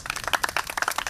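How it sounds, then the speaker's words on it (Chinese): A small group claps briefly to welcome a teacher at a tribal community gathering, with quick, uneven hand claps in a short close burst. "来掌声一下。"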